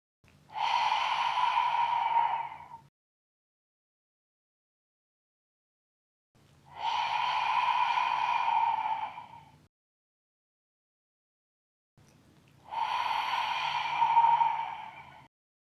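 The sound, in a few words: lion's breath yoga exhalation, tongue out, ha sound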